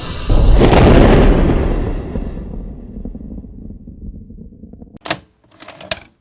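A rocket engine roars during launch as a loud, broad rumbling blast that fades out over several seconds, followed by a few sharp clicks near the end, with no voices.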